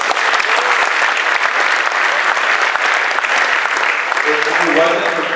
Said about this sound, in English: Let's give Peter a round of applause.